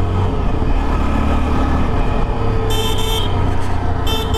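A single motorcycle horn on a Yezdi Adventure sounds in two short bursts near the end, loud and close, over a constant engine and road rumble.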